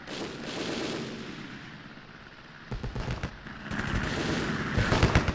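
Ship anti-aircraft guns firing in a naval battle game, a dense rumbling barrage of repeated reports that builds in loudness, heard with no talking.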